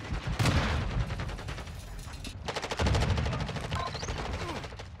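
Rapid automatic gunfire from Call of Duty on the Shipment map rattles in dense bursts, with a heavy burst near the start and another after a short break, continuing steadily to the end.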